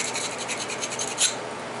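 A flint edge being ground during flintknapping, a steady close scraping rasp with rhythmic strokes and one sharper scratch near the end, no talking.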